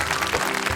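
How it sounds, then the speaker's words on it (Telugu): A short burst of audience applause at an inter-college TV dance competition, dense overlapping claps from a crowd, brief and fairly loud. "చప్పట్లు."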